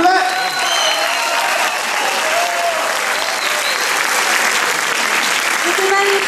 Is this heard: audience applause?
yes